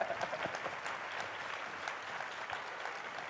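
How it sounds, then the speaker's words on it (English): Audience applause at a mainstage event greets a chef, steady dense clapping filling the short stretch at moderate distance, with no talking over it. "Big round of applause."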